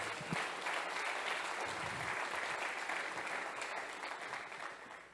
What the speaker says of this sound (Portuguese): Aplaude o teu Deus, aplaude.